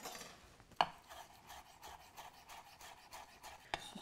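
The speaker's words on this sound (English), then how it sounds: "take a handful of fresh chives and finely slice them" Knife finely slicing fresh chives on a board, a soft rapid scraping cut rhythm close by, punctuated by two sharper knocks of the blade, with no talking.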